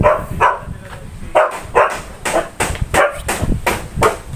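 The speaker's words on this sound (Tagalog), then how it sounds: "Ang cute ng aso po dito." A dog barks repeatedly in short bursts, several sharp barks spread across a few seconds, fairly close, with some background noise.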